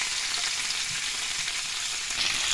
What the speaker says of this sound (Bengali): ঘিয়ের মধ্যে এগুলো ভেজে নিচ্ছি